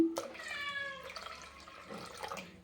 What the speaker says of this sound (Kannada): ಇನ್ನೊಂದು ಸ್ವಲ್ಪ ನೀರು ಹಾಕ್ಕೊಳ್ತೀನಿ